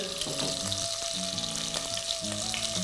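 Shallots, garlic and green chillies frying in oil for a rustic dish, giving a steady, close sizzle throughout with tonal music playing alongside.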